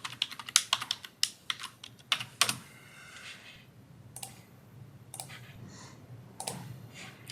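Fingers type a password on a computer keyboard, producing a close, quick run of sharp clicking keystrokes followed by a few sparser taps, with no voice.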